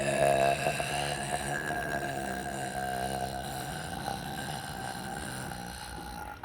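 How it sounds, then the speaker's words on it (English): One long, loud, drawn-out burp with a steady tonal rumble lasts several seconds close to the mic, part of a burping contest. "I'm gonna show off like how to take a burp"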